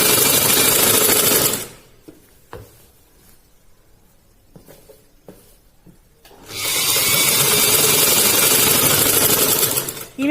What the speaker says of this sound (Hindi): इसके ऊपर से सिलाई लगाएंगे। इस सिलाई को हमें अगले कट तक लेकर जाना है।